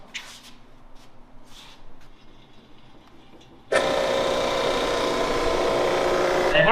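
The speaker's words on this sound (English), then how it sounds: "It's called the Burco milling machine." A Burco milling machine mills a warped engine cylinder head. A fairly quiet workshop stretch gives way midway to a sudden, loud, steady grinding roar that continues without a break to the end.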